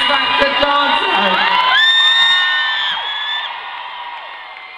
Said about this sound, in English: So give the biggest round of applause ever to our X Factor dancer.